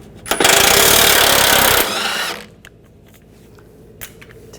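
Bolts come off a front bumper bracket on a 2004-2008 Ford F-150 with a 13mm socket: a loud, close burst of power-tool whirring lasts about a second and a half, then winds down and leaves near-quiet with a few faint clicks.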